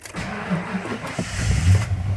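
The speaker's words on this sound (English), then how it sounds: "the truck actually starts right up" A 1993 Ford F-150 truck engine cranks briefly after a new ignition tumbler and switch are fitted, then catches and settles into a low idle, heard close up with no talking.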